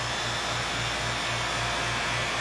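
A vacuum pump runs steadily, a loud, dense mechanical roar with a rapid pulsing throb underneath, close and continuous with no talking.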